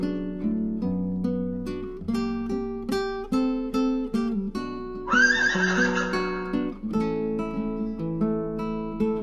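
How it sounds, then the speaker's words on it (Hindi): A horse gives a loud, shrill whinny midway, rising and trembling for about a second, set against a steady bed of music that runs throughout. "घोड़े ने अपने आका के पांव की चाप पहचान ली और जोर से हिनहिनाया"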